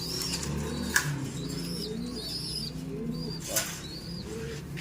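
Soft pigeon cooing repeats through the clip, with occasional chirps and a brief flutter of wings against a quiet outdoor background.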